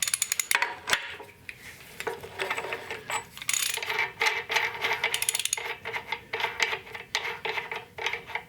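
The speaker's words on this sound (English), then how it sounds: "now I need to get this nut back off" A ratchet loosens the nut on a Dana 30 front axle of a Jeep CJ7 during a ball joint and U-joint rebuild, giving bursts of rapid metallic clicks with short pauses between strokes, close up.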